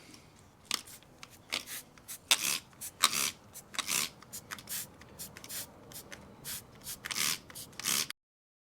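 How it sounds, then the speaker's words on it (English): Close, repeated rubbing and scrubbing strokes as a microfiber cloth and 50-50 all-purpose cleaning solution wipe built-up dirt and grime inside a BMW F30, in uneven bursts with no talking. "50-50 all-purpose cleaning solution and a microfiber cloth in order to just get some of the dirt and grime off"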